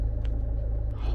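A Land Rover Freelander 2 idles smoothly, a steady low rumble close by with no revving, alone except for a couple of faint clicks.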